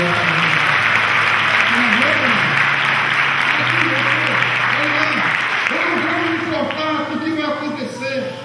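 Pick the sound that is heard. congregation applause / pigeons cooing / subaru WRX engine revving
congregation applause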